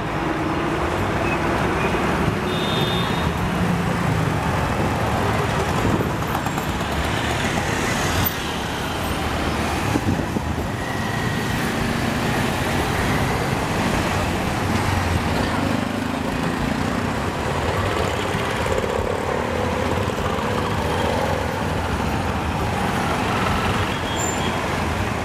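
Dense, noisy street traffic in Sri Lanka produces a constant loud roar of cars, buses and trucks passing close by, with engine rumble and occasional brake hiss, and no voices above the din.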